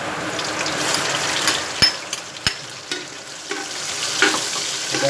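Corn kernels and red onion frying in a pan for a Kapampangan corn dish, a steady close sizzle broken by several sharp scrapes and knocks of a spoon stirring against the pan, with no talk.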